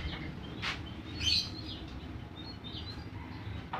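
A teledean songbird at a bird market gives a few short, bright chirps and a brief trill against steady crowd and market background noise.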